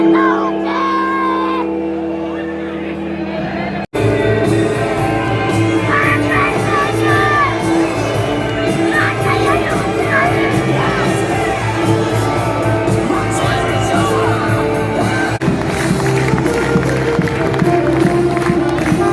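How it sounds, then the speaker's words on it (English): A large, loud ice hockey crowd in Pori roars, jeers and shouts at the referees before a derby game, with sustained voices and whoops filling the arena. "the referees come out and they get roundly booed by the Pori crowd"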